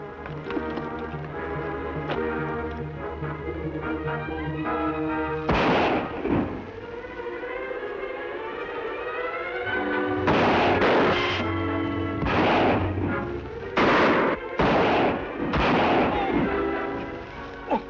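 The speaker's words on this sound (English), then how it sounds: "I'll fire to keep them back." Gunshots crack out in a Western shootout, one sharp report followed later by a rapid string of several loud bangs, set against music at the start.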